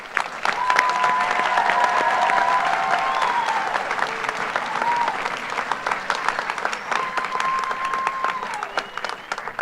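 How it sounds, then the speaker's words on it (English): Large audience at the Brazosport College 2025 commencement applauds graduates' families, sustained dense clapping with scattered whoops and cheers, loud and steady before slowly thinning out. "Let's give them a big round of applause."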